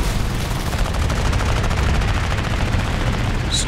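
Aircraft machine guns firing in the game War Thunder during an air arcade dogfight, a continuous rapid rattle that is loud and steady throughout with no speech over it.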